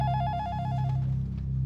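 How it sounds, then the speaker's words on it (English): A telephone rings close by with a bright trilling bell that warbles rapidly over a steady low hum, one ring burst that fades out after about a second. "The phone rings."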